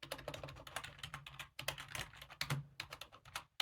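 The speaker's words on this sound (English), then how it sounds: "we clear this and we type pacstrap" Quick, close, crisp keystrokes on a computer keyboard type a command in irregular bursts with brief pauses.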